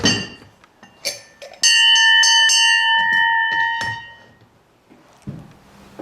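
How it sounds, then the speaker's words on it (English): A desk bell rings sharply in a quiet room, several bright metallic strikes with one sustained ringing tone that slowly fades, with soft movement sounds before and after. "And I'm going to ring your bell."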